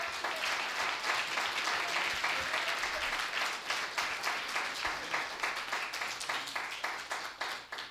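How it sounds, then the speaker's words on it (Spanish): An audience at a gathering honoring Monsignor Oscar Romero breaks into sustained applause, thick at first and then thinning into more distinct, rhythmic individual claps toward the end. "dejo un aplauso"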